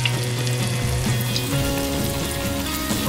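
Steady crackling sizzle of KFC-style crispy chicken frying in hot oil, continuous and close, with no voices.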